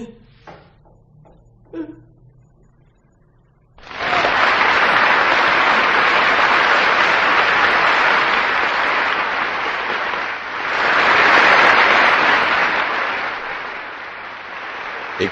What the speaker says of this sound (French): Écoutez, écoutez comme ils applaudissent.